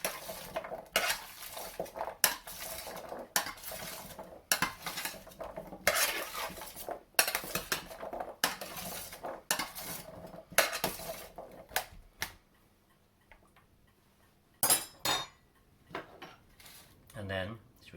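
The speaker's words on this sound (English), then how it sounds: "Stir it all around so that the oil covers all the vegetables." Vegetables coated in oil are stirred in a dish for roasted red pepper soup, giving repeated bursts of clinking and scraping in a steady rhythm, close and fairly loud, then quieter with a few sharp clatters near the end.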